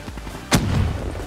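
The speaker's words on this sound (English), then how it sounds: "Watch how fast I shoot." One sharp gunshot in the Black Ops 3 video game, loud and close, with a short rumbling tail fading into background game noise.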